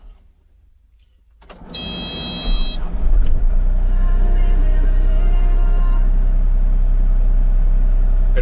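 A 2021 Kubota KX040-4 mini excavator with cab cranks with a short starter whir, then its diesel engine catches and settles into a loud, steady low idle that continues to the end.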